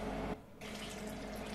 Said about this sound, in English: And I'll pour another one just to show if it keeps up.